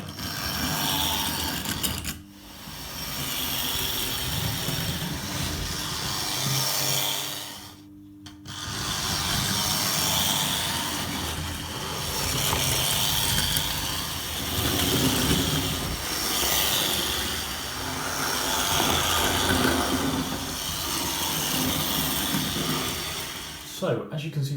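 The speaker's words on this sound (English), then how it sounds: "the loco is running very nicely now" Tri-ang R.355 0-4-0 model locomotive runs on its track, a steady whirring, rubbing motor drone with a brief pause and a short drop partway through, continuous and close.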